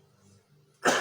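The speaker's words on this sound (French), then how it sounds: "je vais tousser un peu." A man gives a single sharp, close cough near the end, after a moment of near silence.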